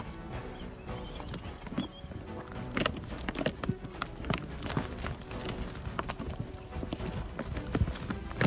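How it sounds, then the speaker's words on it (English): Yak bulls fighting during mating season: heavy hoof thuds, scuffling and shuffling on the ground with occasional animal calls, a steady busy clatter at moderate distance. "Yak bulls regularly fight amongst themselves to establish dominance during the mating season."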